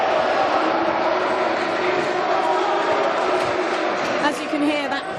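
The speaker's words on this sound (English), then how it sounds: "As you can hear, that crowd is certainly loud." A loud crowd at a Keele versus Staffs varsity volleyball match, a constant roar of voices and cheering filling the hall, with a commentator talking over it.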